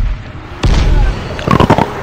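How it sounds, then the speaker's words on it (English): A grenade blast in a zombie video game lands as a sudden loud boom, followed by a rumbling tail and a burst of sharp crackling pops a moment later. "I'm throwing a grenade at these losers."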